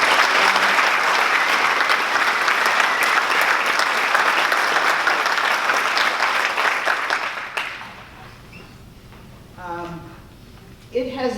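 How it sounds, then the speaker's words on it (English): An audience applauding at an awards event, a loud, dense wash of clapping that holds steady for several seconds, then fades out and gives way to a single voice speaking. "It has been really great to have this applause tonight"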